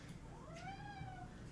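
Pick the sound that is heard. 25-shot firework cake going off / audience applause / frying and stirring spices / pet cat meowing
pet cat meowing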